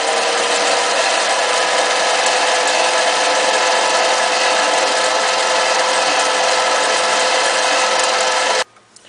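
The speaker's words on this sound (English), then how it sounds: "Now I'm going to face the end here after I've cut it down to length." A pen blank section is cut to length and its end faced on a lathe, giving a loud, continuous broadband whirring grind that runs steadily before stopping abruptly near the end, with no talking.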